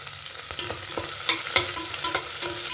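Cumin, curry leaves, green chillies and cloves crackle in hot oil, a bright sizzle punctuated by repeated sharp scraping stirs of a spoon against the pan, close up and with no one talking.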